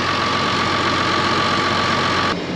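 A tractor idling close by, a steady loud mechanical drone with an even rhythmic chug, cutting off slightly near the end.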